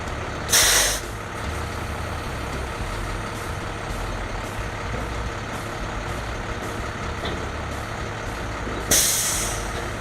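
A truck idles steadily nearby, removed from the front of a V-box spreader during a plow install, with two sharp, loud bursts of air-brake hiss, one near the start and one near the end.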